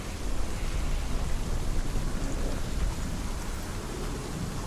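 Heavy rain pours in a dark fantasy game world, with low rolling thunder beneath it, a dense, continuous wash of sound with no break.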